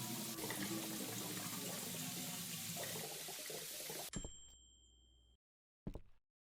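Liquid pours steadily into a brewing vat in a beer brewing simulator game, a loud continuous gush that cuts off abruptly, followed by a bright ding and a short final splash.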